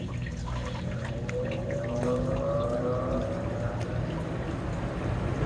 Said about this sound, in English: Let me go ahead and turn the fan on to the lowest level.